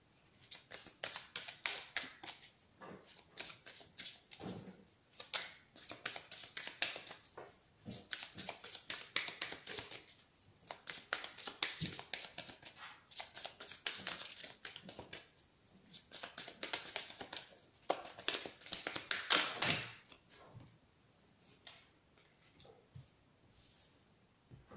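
Tarot cards shuffled and dealt by hand in steady bursts of riffling, flicking and tapping, close and fairly quiet with short pauses between rounds.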